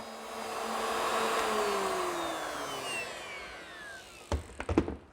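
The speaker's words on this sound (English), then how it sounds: "I've set up my router with a 5/8 inch collar and a 1/2 inch bit." A router fitted with a 5/8 inch collar and a 1/2 inch bit spins down with a falling whine, then a few sharp knocks and clatters of wood follow near the end.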